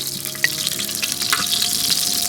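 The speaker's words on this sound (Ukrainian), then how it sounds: "Ковбаски вже добре підсмажились" Sausages sizzling in a frying pan outdoors, a steady close crackle and hiss with small pops and a faint stirring scrape, no talking.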